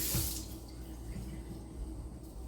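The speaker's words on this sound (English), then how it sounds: "Let me wash my hands." Hands are washed under a running kitchen tap, a close, steady rush of water with an initial splash and constant hiss throughout.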